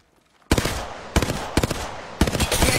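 Automatic gunfire from a firearm in the Apex Legends video game: three loud, close bursts of rapid shots after a brief quiet start, with no talking.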